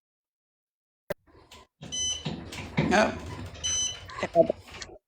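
An electronic alarm goes off in short beeping tones, mixed with a person talking close to the microphone.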